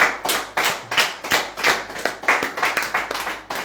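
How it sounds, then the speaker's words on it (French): Congregation clapping in a church service, loud sharp claps in a fairly regular rhythm of roughly three or four per second, close and continuous with no talk. "Nous applaudissons la parole de Dieu."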